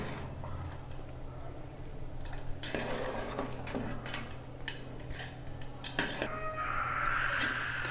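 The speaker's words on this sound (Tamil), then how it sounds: "இப்போ இதை நல்லா கிண்டிக்கலாம்." A utensil stirs coconut rice in a metal pot, giving scattered scraping and clinking knocks against the pot, soft at first and then busier and brighter toward the end over a quiet low hum.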